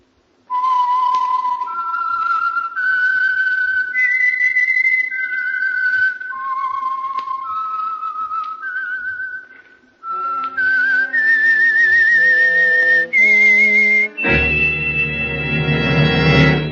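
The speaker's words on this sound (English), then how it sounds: "the signal to listen for is this whistle" A clear, loud whistled signal tune of rising and falling notes from an old radio drama, ending as a full orchestral chord swells in underneath.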